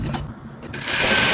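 A sewing machine stitching a dress seam runs briefly and mechanically close by, a quick whirring clatter that picks up speed toward the end.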